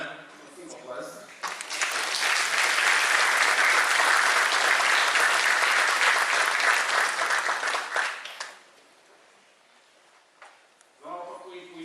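Applause for three demonstrators at an opening address of the INFORUM 2017 conference: a roomful of hands clapping steadily and loudly for about seven seconds before fading, with a voice speaking briefly before and after.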